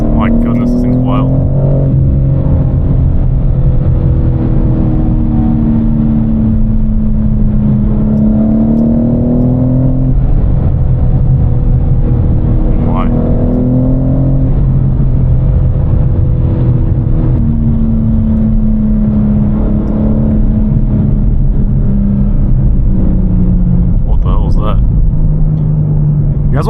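A BMW M4 exhaust drones loudly from inside the cabin on a late-night California freeway drive, its pitch rising and falling as the car accelerates and shifts.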